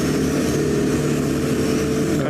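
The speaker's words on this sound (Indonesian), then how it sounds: "Cuman saya kondisikan suara knalpot di belakang kamu." Vehicle exhaust from a street roars as a loud, steady engine rumble that fills the whole stretch without a break and masks everything else; no one speaks.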